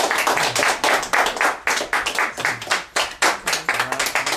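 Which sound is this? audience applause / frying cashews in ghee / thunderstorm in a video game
audience applause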